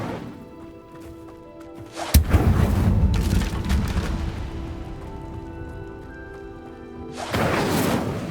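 Incendio fire spell cast in the Hogwarts Legacy video game: a sudden sharp whoosh-burst erupts mid-clip and roars on for several seconds, then a second fiery swell rises near the end over a steady background hum.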